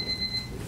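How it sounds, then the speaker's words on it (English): Steady high electronic tone, like an alarm clock beeping, sounds continuously through a legislature meeting room for under a second, faint and constant. "I'm going to ignore the beeps."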